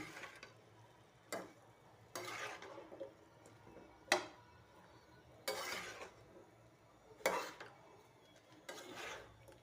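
A spoon scraping and stirring vegetables frying in a pan on a home stove, with about seven separate rasping strokes spaced a second or so apart over low background hiss; no voices.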